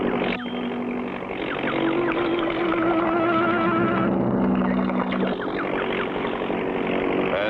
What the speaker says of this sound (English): I hear their engine.